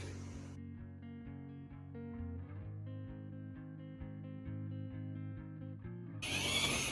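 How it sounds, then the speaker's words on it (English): A drill turns a hole saw bit through an antique wooden cabinet being made into a bathroom vanity, giving a steady, close motor whine for about six seconds that ends in a short burst of rough noise. "He's going to drill the hole using the hole saw bits"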